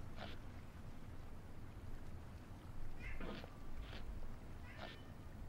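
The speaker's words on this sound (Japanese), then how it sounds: "にゃー言ってるよ。" A cat meows several times, short faint mews spaced about a second apart, heard over a steady low rumble and background noise during play of the video game Getting Over It with Bennett Foddy.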